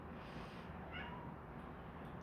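A house cat meows faintly at the door, wanting to be let back in, a single soft call against a quiet room hum.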